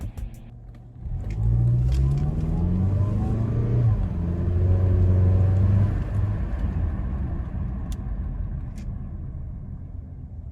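A Mazda CX-5 on a quiet straight road picks up speed to about 30 mph with a rising engine and road rumble, then eases off as it brakes down to about 5 mph. The sound is close and steady, with no talk.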